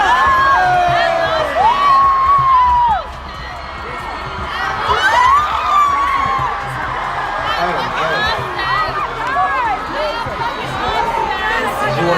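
Huge festival crowd at a rapper's Rolling Loud performance, before more than 60,000 people, roaring and cheering loudly with shrill screams and whistles, a dense sustained wash of voices that dips briefly then swells again.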